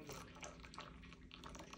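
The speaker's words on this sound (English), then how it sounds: "I can do very high pouring." Water poured from high up out of a teapot with a strainer, a short close splashing, trickling stream heard on its own.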